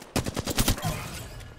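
Rapid bursts of automatic gunfire from a weapon in the battle-royale shooter Apex Legends, several loud close shots cracking in quick succession before trailing off into a fainter rattle.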